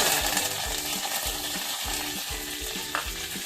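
Curry leaves and fenugreek seeds fry in hot oil in a clay pot for Tamil vatha kuzhambu, giving a steady, loud sizzle with repeated stirring scrapes throughout and no talking.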